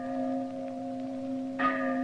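A large bell, the Liberty Bell, hums with a long steady ringing tone that is struck again near the end, bringing a brighter fresh peal.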